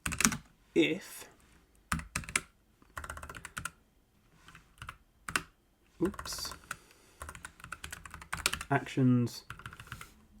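Code is typed on a computer keyboard while programming a light controller in TIA Portal, giving irregular bursts of crisp, close keystrokes. Someone talks intermittently between and over the typing.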